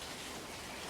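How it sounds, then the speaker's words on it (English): Steady rain falling over farm country during corn-growing season, a continuous broadband hiss of drops at even intensity with no breaks, fairly quiet and alone without any voices. "Thankful for the rain."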